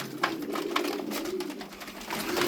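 Tumbler pigeons cooing close by, soft throaty coos repeating in gentle pulses over a steady background hum.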